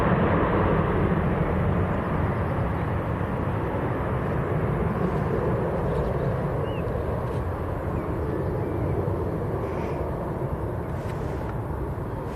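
An airliner rolls down the runway on departure from Manchester Airport, bound for Budapest, giving a steady, broad jet roar at a distance that holds evenly throughout with no voices.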